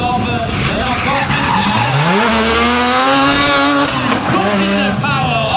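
Rotary-engined Toyota 86 drifting at King of Drift Asia 2015, loud close tire squeal with a rising, wavering engine note that climbs and holds, then dips and recovers, continuous throughout.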